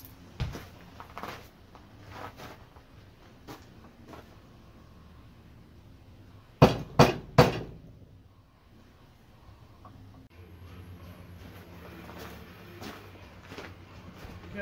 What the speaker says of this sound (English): using a bolt as a punch and a trusty old Smith hammer